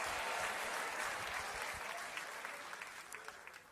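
Applause from a church congregation during a Pentecostal preacher's sermon, a dense, steady wash of many hands clapping at moderate distance, slowly fading toward the end with no speech over it.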